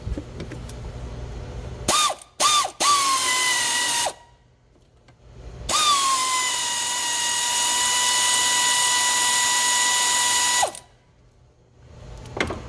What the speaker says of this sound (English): Before I start moving the ratchet, I want to make sure I'm actually on the screw properly.